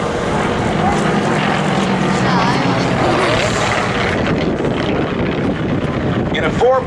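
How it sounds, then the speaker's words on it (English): A 1948 North American T-28 Trojan piston-engine trainer flies at a military open house air show, its loud, steady propeller drone filling the whole stretch with a rough, windy roar and no pause. "That sound of that engine is really very much like a 1948 North American piston engine trainer known as the T-28 Trojan."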